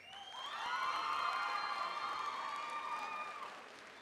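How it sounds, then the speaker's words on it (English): An audience claps and cheers at the Idaho FFA State Leadership Conference, a broad wash of applause that builds in the first half-second, holds steady, then tapers off, with a few whoops on top. "Let's get one more round of applause."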